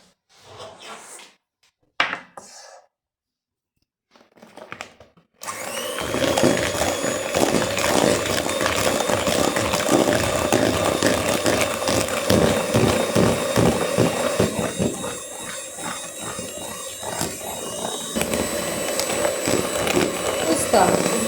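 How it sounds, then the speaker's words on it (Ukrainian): An electric hand mixer beats cheese pie batter with sugar, starting after a few quiet moments of handling, then running loud and continuous with a steady whirring drone and rattling against the bowl. "і все це я збиваю міксером"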